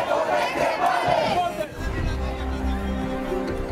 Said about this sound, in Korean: 지금 또 다른 노를 외치고 있습니다